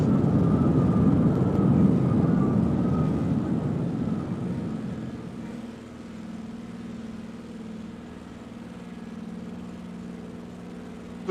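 A small bush plane in a flight simulator roars loudly on its takeoff run, the engine drone heavy at first and then easing into a steadier, quieter hum as it climbs away.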